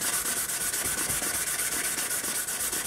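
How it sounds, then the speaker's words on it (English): Sandpaper of 400 grit rubbing back and forth over the handle of an ESEE Izula 2 knife, a steady, close, continuous scratchy hiss with a faint rhythmic pulse from each stroke, and no talking. "repeat the process, but now we're using a 400 grit."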